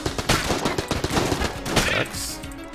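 Kalashnikov rifle fire in a video game, a rapid burst of sharp, loud shots in quick succession, followed by a brief tail of ringing reverb as the firing stops.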